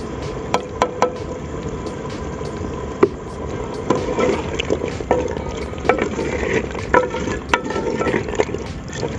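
Ginger garlic paste frying in ghee in a pot for beef handi, a continuous wet bubbling sizzle punctuated by repeated clicks and spoon taps, close and without talk.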